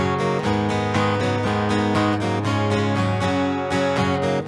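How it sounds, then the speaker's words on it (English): Strummed acoustic guitar chords recorded direct from the guitar's output, with a dry, close, plugged-in tone, played in a steady rhythm throughout. "There's an acoustic DI track which is just coming straight out of the output of my guitar."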